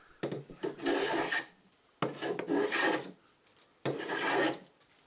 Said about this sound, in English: Now we can start planing off the machined edge from our board.